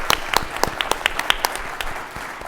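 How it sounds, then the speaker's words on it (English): Audience applause for a panel of senior cyber leaders at the close of a discussion, scattered individual claps at first that thicken into steady clapping, moderately loud, with no talking over it. "Let's give them another round of applause."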